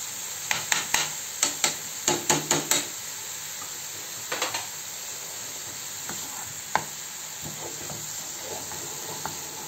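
Carrot sweet mixture cooking in a pan, a cluster of sharp scraping stirring strokes near the start over a steady frying hiss, then a few softer scrapes against the continuous sizzle.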